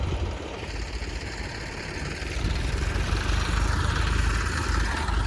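A tractor engine idles in a farm field, a continuous close mid-to-low rumble that grows slightly louder and rougher about halfway through, with no voices.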